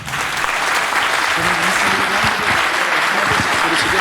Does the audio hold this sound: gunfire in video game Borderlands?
no